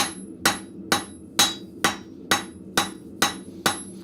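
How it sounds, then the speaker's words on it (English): A blacksmith forges hooks with hammer blows on hot iron: nine evenly spaced, ringing metallic strikes land about half a second apart, close and alone, without speech. "You might notice that some of my blows has a different sound than some of the others"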